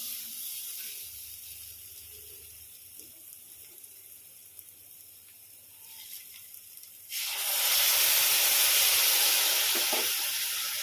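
Hot water poured into sizzling masala gravy in a kadhai, a faint low simmer before a sudden loud rushing hiss that holds steady to the end.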